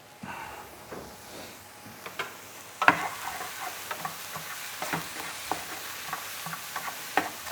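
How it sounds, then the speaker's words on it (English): Grated beetroot is stirred through a bowl with soft, scattered scrapes and clicks, quiet and close, with no talk. "grate the beetroot and then mix the beetroot through, like that"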